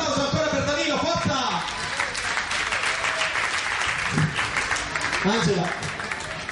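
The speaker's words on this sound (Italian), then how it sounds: "Un applauso ancora per Danilo, forza." Audience at an outdoor regional beauty pageant selection in Panza d'Ischia applauding for a contestant, sustained clapping throughout with a host's voice talking over it.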